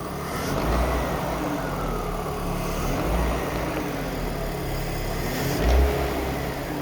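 BMW E39 with the M54B30 inline-six, a loud continuous intake suction roar and low engine hum, swelling slightly in a few brief surges as the throttle is blipped, close and with no talk.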